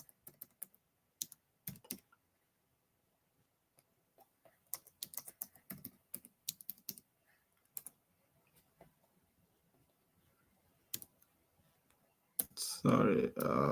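Someone types a password on a computer keyboard in short, irregular bursts of quiet clicking keystrokes with pauses between them, ending in a louder burst of noise.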